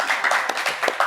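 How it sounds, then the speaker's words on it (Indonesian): An audience at a Papuan beauty pageant claps in a brief burst of distinct, rapid hand claps, close and fairly crisp. "Tepuk tangan."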